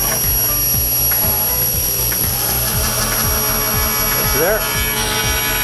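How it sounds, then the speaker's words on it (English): Table saw cutting through Texture Plus faux brick wall panel, a loud steady motor whine with repeated rising blade-load sweeps as the panel feeds through, close and continuous; a brief spoken word near the start. "I'm going to show you just how easy it is to cut some Texture Plus panels"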